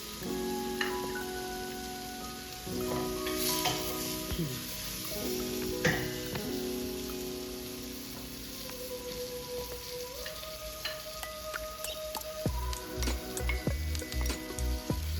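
Lechon pork belly sizzles and crackles in a pan with tomatoes as it is stirred, a loud steady frying hiss with clinks of a utensil and a few sharper knocks toward the end.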